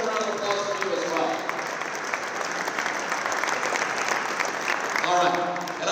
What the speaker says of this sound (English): So they deserve a round of applause from you as well.